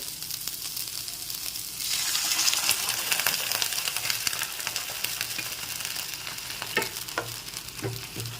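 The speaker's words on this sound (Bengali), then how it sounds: "এবার জল মিশিয়ে এটাকে সিদ্ধ করে নিতে হবে" Shahi paneer gravy bubbles in a pan after water is added, a continuous hissing sizzle that swells after a moment, with occasional clicks and knocks and no talk.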